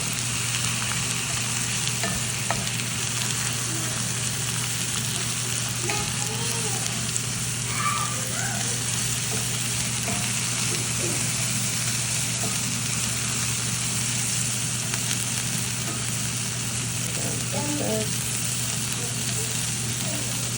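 Ramen omelet ingredients frying in a pan and mixed now and then, a steady dense sizzle with soft stirring scrapes beneath a constant hum, left mostly untouched to char.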